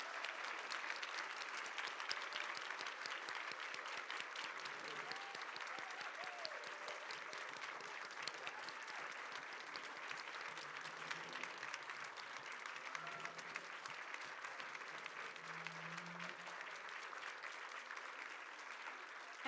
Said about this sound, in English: Can we get a round of applause for our moderator and our panelists this afternoon?